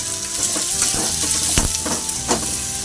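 Chopped small shallots, a quarter kilo, land in about 50 ml of hot cooking oil in a kadai and sizzle steadily and loudly, with scattered clinks and stirring sounds throughout.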